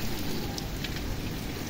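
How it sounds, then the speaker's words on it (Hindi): Dense, loud rain pouring down in a constant roar, with heavy drops drumming throughout. "ये देखे कितनी तेज बारिश होने लगी है"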